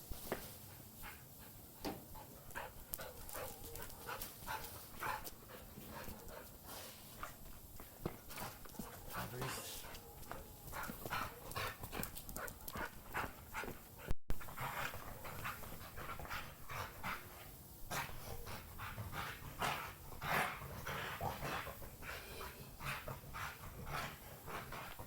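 A dog in a backyard panting rapidly and rhythmically for a long stretch, close and moderately loud, with occasional soft thumps and movement and no clear barking.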